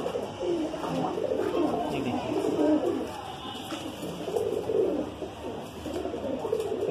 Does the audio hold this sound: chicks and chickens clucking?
no